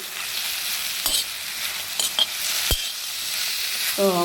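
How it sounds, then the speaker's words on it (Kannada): Cashews frying in a pan for a paneer masala gravy, giving a steady hiss of sizzle broken by a few sharp clinks and scrapes of a spoon stirring against the pan. "ಗೋಡಂಬಿ ಸೊ ಇದನ್ನು ಹಾಕಿಬಿಟ್ಟು ಚೆನ್ನಾಗಿ ಫ್ರೈ ಮಾಡ್ಕೊಳ್ಳಿ"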